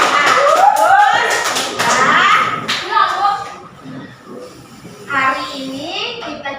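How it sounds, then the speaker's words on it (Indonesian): Children clap their hands in a classroom Quran lesson, a few bursts of close, sharp claps mixed with kids' voices and an adult speaking, fading into quieter talk. "tepuk tangan untuk kita semuanya"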